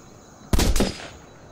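A single loud burst of gunfire from the tactical video game Jagged Alliance - Back in Action, a sharp blast with a short rattling tail, standing alone against a quiet background.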